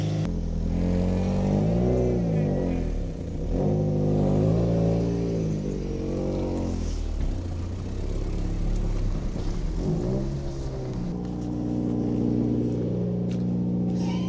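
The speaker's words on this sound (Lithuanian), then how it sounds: "Va, jums matėt, kaip celikutė pukšt ir iš karto dirba" The engine of an old Toyota Celica runs up close, its pitch rising and falling in repeated rev swells before settling into a rougher running note.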